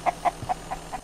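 A chicken in the survival game Mist Survival clucks in a short run of five evenly spaced calls, fairly close and clear over a low steady background hum.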